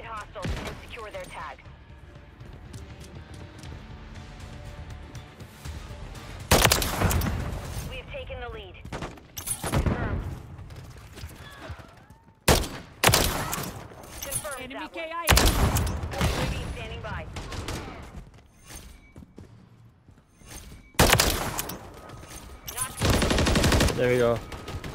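Automatic gunfire in a first-person shooter video game, with bursts of rapid shots that come and go over a steady background of game noise. Someone talks between the bursts.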